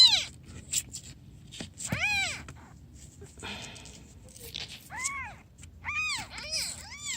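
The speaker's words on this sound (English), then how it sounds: "You beautiful kitty, you beautiful kitty." A street cat that has just given birth at home meows close by in several drawn-out, rising and falling cries, some in quick clusters, with quiet pauses and faint background sounds between them.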